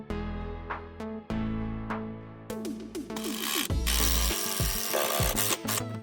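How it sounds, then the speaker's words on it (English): A power drill drives generic composite deck screws into composite deck boards on a deck frame, with several whirring bursts that rise in pitch, broken by clatter and brief pauses. "I continued along and screwed it down at every joist."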